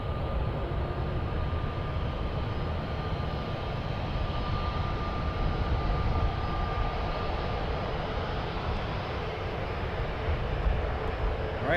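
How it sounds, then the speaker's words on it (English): A Southwest airliner departing San Francisco International Airport produces a steady, distant jet engine roar with deep rumble that holds evenly throughout, with no speech. "We just had a Southwest depart as well"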